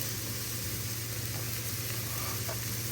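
Masala sautéing in a pan for pressure cooker paneer biryani gives a steady, continuous sizzle and crackle throughout, with no talking.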